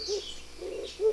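Three low, soft hooting notes from an African bird's deep song, evenly spaced and fairly faint, each a short rounded coo with quiet gaps between.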